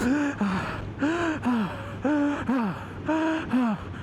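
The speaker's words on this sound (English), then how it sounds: "Hopefully it hasn't picked up my, my breath. My breathing." Close, rapid mouth breathing from a person on a motorbike test day: quick, voiced, gasp-like breaths in a steady rhythm, about two per second, with nothing else over them.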